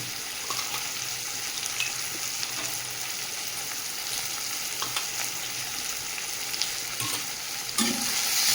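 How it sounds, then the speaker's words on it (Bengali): Ground ginger, garlic and green chili paste frying in a pan, giving a steady, close hiss of sizzling oil with faint stirring scrapes, and a louder clatter near the end. "ভালো করে মশলাটা ভেজে নেব।"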